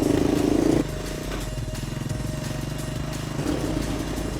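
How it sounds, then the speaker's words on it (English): A 42-year-old Honda ATC three-wheeler with a semi-automatic transmission, its small single-cylinder engine running close by with a steady chugging putter, slightly louder at the start and rising again near the end, no talking. "you can really tell it's a Honda engine because after 42 years, this thing's still running strong"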